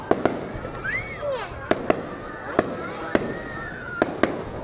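Fireworks burst over Tra Vinh city at night: a string of sharp, loud cracks at irregular intervals, with whistling rockets rising between them and people's voices in the background.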